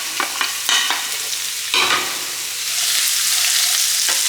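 Beetroot and onion pieces fry together in a pan. A loud, close sizzle is broken by several quick scraping stirs early on, then the frying settles into a steady hiss. No one talks.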